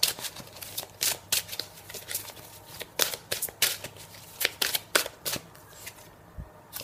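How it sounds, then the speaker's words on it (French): A deck of tarot-style cards is shuffled by hand in a quiet room, making a run of quick papery riffling bursts in an uneven rhythm, close and fairly soft, with no talking. "Je prends une carte pour votre situation."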